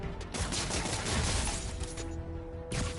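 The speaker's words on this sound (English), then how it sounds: "Ranged enemies incoming. Watch out for gunfire." Rapid bursts of video game gunfire crackle continuously, with sharp repeated shots and crashing impacts layered over a loud, dense game soundscape.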